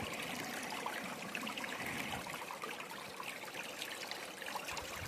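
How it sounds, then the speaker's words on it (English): Water in a stream in Montana rushes past a dry bank in a soft, continuous wash that stays faint and even throughout, with no one speaking. "there's a really good head of water going through there"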